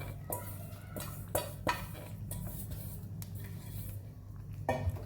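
Spoon scraping and clinking in a pan as peanut powder and sesame seeds are stirred into hot jaggery syrup, several sharp metallic taps amid soft, close, quiet mixing sounds.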